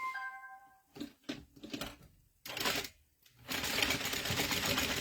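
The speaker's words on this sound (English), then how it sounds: "Stitch down the sides." A sewing machine stitches down the sides of an inside pocket on a crossbody bag. A few short electronic beeps come first, then choppy bursts of stitching, and finally a louder, steady run of machine noise.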